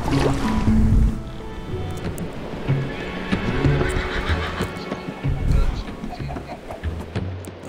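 A horse whinnies amid a noisy, busy background, with people talking over and around the call.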